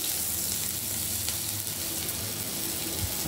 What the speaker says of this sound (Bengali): কড়াই অল্প একটু তেল রেখে, খুব সামান্য, বোঝাও যাচ্ছে না এতটুকু তেল রেখেছে। তার মধ্যে দিয়ে দিচ্ছে আদা কুচি,